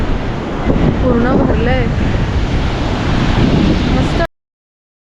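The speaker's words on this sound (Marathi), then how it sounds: "लाटा बघा, किती जबरदस्त लाट आहे." Large monsoon waves surge and crash continuously at Mandvi beach under strong wind buffeting the microphone, with voices talking over the roar before the sound cuts off abruptly.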